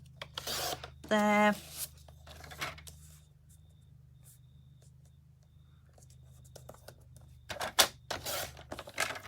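Scissors snip through card stock for a fancy fold wings card in a few short, close cuts, a quiet room between them and someone speaking briefly around the snips.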